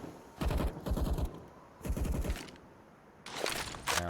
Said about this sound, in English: Gets immediately deleted by Moose, who follows up with a second kill onto Ben.